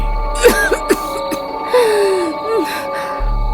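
A person gasps and makes short, strained throat sounds, a few brief coughing bursts close by, with a quiet low hum underneath.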